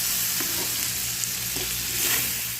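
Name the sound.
groundnut chutney frying and stirring in pan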